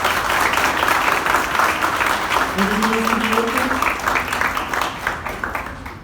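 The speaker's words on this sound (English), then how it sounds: "he deserves a very, very, very big round of applause." Audience applause at a college event, dense steady clapping filling the whole span with a faint tonal murmur of voices partway through, tapering slightly at the end.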